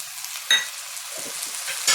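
Tomato pieces softening in hot oil with spices for a chickpea and brinjal curry, a soft steady sizzle with a few brief stirring scrapes near the start and end, no talk.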